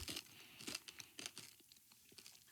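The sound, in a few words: crunching candy-shelled milk chocolate Easter eggs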